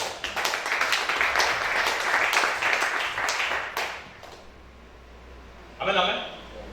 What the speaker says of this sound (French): Acclame ça.